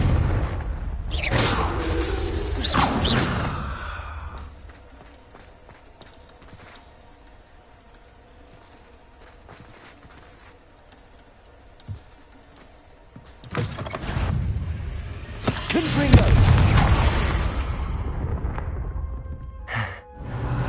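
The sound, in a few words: Bombarda and Confringo spell blasts in the video game Hogwarts Legacy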